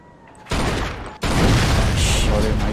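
Loud, dense gunfire fills the Mafia 2 game scene: a sustained burst starts abruptly, breaks off for a moment, then resumes in a continuous barrage aimed at a gas tank.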